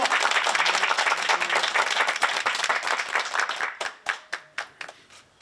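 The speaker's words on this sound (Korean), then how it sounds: "뜨거운 박수 부탁드리겠습니다" An audience at an indoor sports facility visit greets a presidential candidate with dense, loud applause that thins into a few scattered, separate claps at the end.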